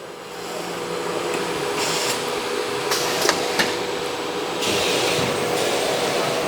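A nesting CNC router with an automatic labeling and drilling head, used for European panel work, runs in auto mode. It gives a steady, loud mechanical hum and whir with brief clicks, and the pitch shifts as the head moves.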